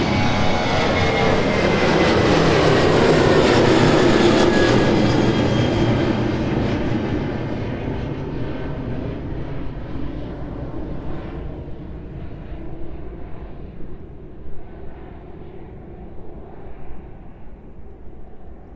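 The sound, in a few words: airplane departing from East Midlands Airport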